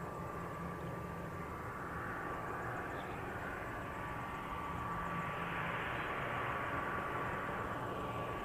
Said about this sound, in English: ATR 72-500 ex-Air New Zealand.